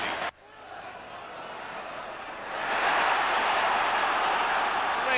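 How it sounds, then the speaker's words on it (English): A football crowd roars for Wayne Entwistle's hat-trick for Sunderland, a broad distant cheer that swells and grows louder after a sharp cut at the start and holds to the end. "and the crowd rise to it"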